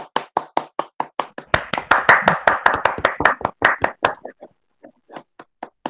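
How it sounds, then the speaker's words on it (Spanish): Audience clapping at a seminar course celebration, starting as scattered rhythmic claps, swelling into a dense burst of applause for a couple of seconds, then thinning back to sparse isolated claps, close and clear with no talking. "¡Aplausos!"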